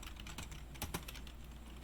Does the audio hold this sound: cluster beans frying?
no